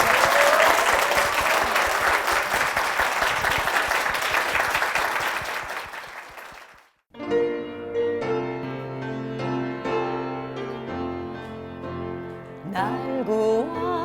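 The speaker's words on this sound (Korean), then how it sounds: "두 분께 하나님의 축복의 박수 부탁드립니다" Applause from a church congregation for two singers fills the first seven seconds, dense and steady, then cuts off as a sung hymn with piano accompaniment begins.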